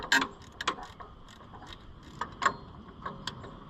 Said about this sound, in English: Let's try the long ratchet for this one.